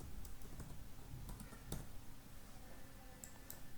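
A date is typed on a computer keyboard as a few quiet, scattered key clicks over a low background hum, close and sparse, with no speech.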